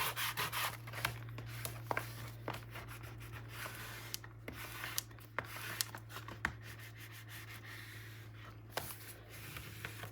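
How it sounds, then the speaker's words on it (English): A paper element on a mini album being burnished, with quiet, close scraping and rubbing strokes that come in irregular short bursts over a steady low background hum. "And it's time to burnish."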